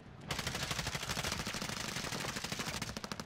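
Rapid automatic gunfire in Call of Duty Warzone, a dense loud burst of evenly spaced shots beginning after a brief pause and continuing to the end, no talk.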